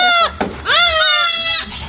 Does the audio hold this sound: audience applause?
no